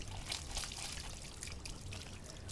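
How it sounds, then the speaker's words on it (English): Clothes are rinsed by hand in water outdoors in a yard in Jamaica, faint splashing and trickling from close by with soft pours of water, and no one speaking. "she is rinsing the clothes"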